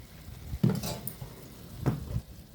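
A utensil scrapes and clatters twice against a pan while vegetables with soy sauce are stirred in it, the knocks short and fairly close, with a soft sizzle underneath.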